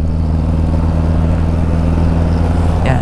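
A Honda ADV 150 scooter fitted with a Kenzo K2S pulley runs its engine, a loud, close, steady drone at high revs that holds constant, ending in a brief rattle.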